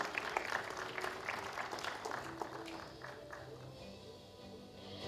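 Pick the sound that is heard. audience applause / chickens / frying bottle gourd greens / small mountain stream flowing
audience applause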